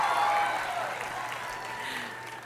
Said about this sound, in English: one more cheer